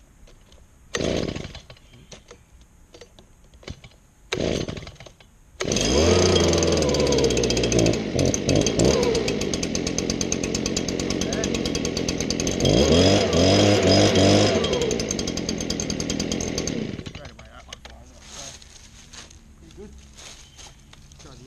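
A gas leaf blower engine started from cold, with a couple of short recoil pulls, then a loud buzzing two-stroke roar that runs steadily with some revving for about eleven seconds before cutting off; one brief exclamation is heard.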